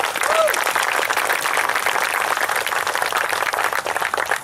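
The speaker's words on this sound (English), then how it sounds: "Let's give a round of applause for Father Sharp." Outdoor crowd at a Hike For Life rally in Flag Pole Hill Park, Dallas, applauding in a sustained, fairly loud burst of clapping, with a brief whistle-like tone near the start.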